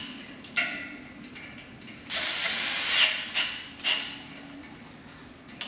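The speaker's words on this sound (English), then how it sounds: "Tighten that sucker up." Bolt being tightened on a metal frame by hand, without the proper Allen wrench, giving several close metallic clicks and a sustained ratcheting scrape in the middle.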